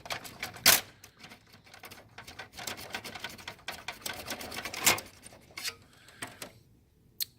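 Sound dampener adhesive is scraped off an HP LaserJet M602/M603 printer in close, rapid scratchy strokes with a few louder rasps, continuous and unaccompanied by speech.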